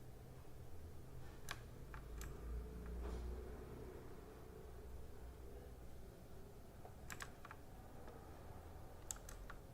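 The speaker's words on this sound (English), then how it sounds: "your keyboard made a sound. It sounded like you're searching something" Keys on a computer keyboard tap faintly in scattered short bursts of clicks under a low steady background hum, with no talking.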